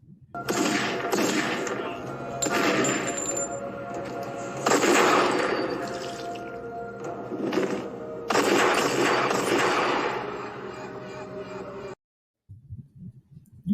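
Video game gunfire comes in loud, dense bursts of rapid shots separated by short gaps, ending in sudden silence, with a few faint sounds after.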